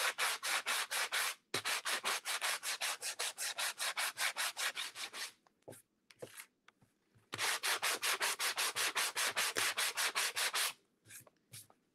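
Sandpaper rubbed by hand along the edges of a wooden cow-shaped door hanger: rapid, even up-and-down scratching strokes in two long bursts with a short pause between, close and crisp, no voices.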